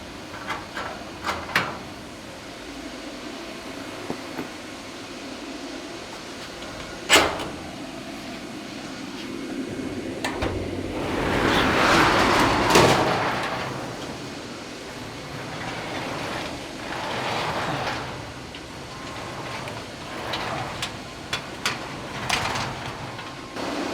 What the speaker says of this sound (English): we go ahead and get the bay door open